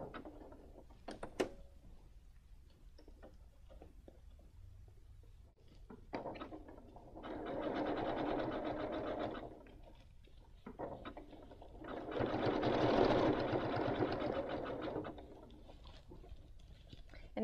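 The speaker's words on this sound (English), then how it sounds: "you're going to stitch all the way around." A sewing machine runs zigzag stitching around a flat fabric doll in two sustained bursts of rapid mechanical whirring, close and moderately loud, separated by quieter handling sounds.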